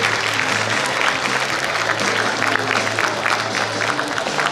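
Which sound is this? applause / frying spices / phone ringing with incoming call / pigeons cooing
applause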